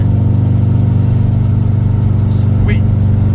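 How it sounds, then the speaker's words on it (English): Drift car engine running close and loud, a rough, steady buzzing note held throughout with slight fluctuations. "So, but it rips. It revs out finally."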